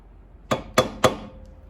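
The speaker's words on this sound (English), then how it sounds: "get a small pry bar or big screwdriver and pry out on it" Three sharp metallic knocks ring out close up at an even pace from a small pry bar or large screwdriver levering against a stuck brake caliper pin on a 1994-1996 Chevy Impala SS or Caprice 9C1, with no talk.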